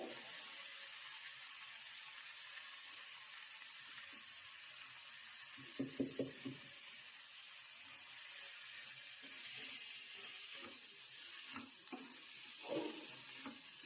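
Lentils fry in oil with salt in an Uttara Karnataka dal palya, giving a soft continuous sizzle with a few brief stirring clinks and scrapes, faint and close, without speech.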